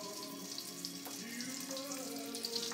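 Water added to beaten eggs while preparing eggplant parmigiana gives a faint, steady trickling hiss that runs unbroken for the whole clip.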